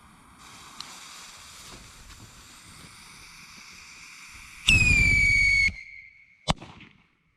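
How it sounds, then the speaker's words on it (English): A jumbo whistling bottle rocket firework on a DIY spinner lets out a loud, sharp whistle that falls slightly in pitch for about a second, then cuts off; a faint crack follows, over steady outdoor wind noise. "going to be using a jumbo whistling bottle rocket"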